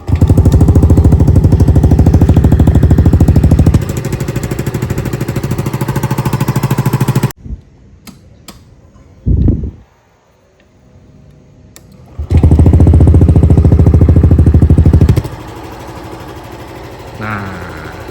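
A motorcycle engine fitted with a Kondoman SS02 WRC exhaust runs loud and close with a rapid, hammering beat, drops to near silence for several seconds, then roars again before easing to a lower idle.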